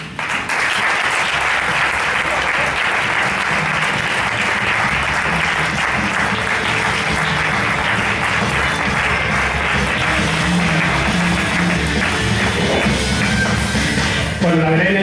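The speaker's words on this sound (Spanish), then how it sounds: "donem un gran aplaudiment als convidats" Loud, sustained audience applause greeting guests at a poetry performance night in Terrassa, a thick continuous roar of many clapping hands, close and unbroken for the full length, with murmurs and calls from the crowd mixed in.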